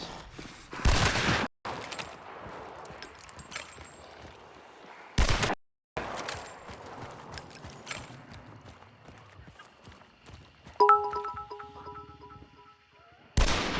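A scoped rifle fires in Hunt: Showdown, with a few loud, isolated shots spaced seconds apart amid quieter clattering footsteps and ambient game noise.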